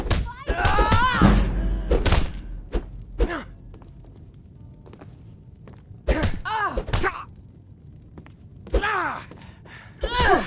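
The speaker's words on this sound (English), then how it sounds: "Now that's what I call a punch." Bare-fisted punches land in a Skyrim fistfight, heavy thuds in short clusters mixed with grunts and groans, fading to quiet gaps before more blows and pained voices.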